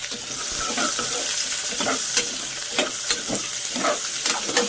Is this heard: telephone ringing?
no